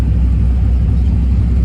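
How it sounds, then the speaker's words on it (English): A 5th-generation Chevrolet Camaro SS idles with its valved muffler set to the quiet low-tone mode, giving a steady, deep, smooth exhaust rumble heard from close by with no voices over it. "I got the valved muffler, so I've got the muffler on kind of low tone right now"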